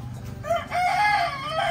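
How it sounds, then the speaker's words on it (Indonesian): Pet chickens being fed cluck, then a rooster crows loudly and close by, with more clucking around it. "lagi beri makan buat ayam-ayam peliharaan Bang Tiko."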